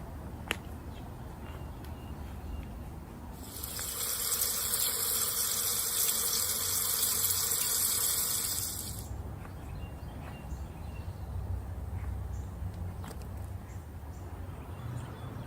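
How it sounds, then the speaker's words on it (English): Tap water runs into a container indoors for about six seconds, a steady bright hiss starting and stopping abruptly, fairly faint against quiet room background. "Let's get this in the house and fill it up with some water"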